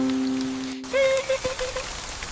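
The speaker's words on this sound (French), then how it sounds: "que les gouttes de pluie tombent" Raindrops falling in a French children's nursery song, heard as a few bright, plinking drip tones over a soft background, fairly close and clear.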